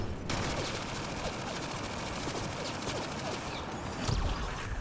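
Rapid sustained video game gunfire, a dense crackling burst of shots rolling on without pause, loud and close, with a brief heavier flare near the end.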